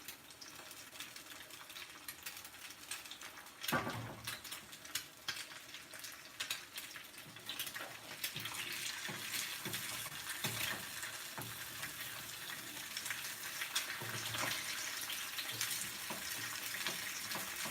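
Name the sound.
lamb liver with soy sauce frying and splattering in a pan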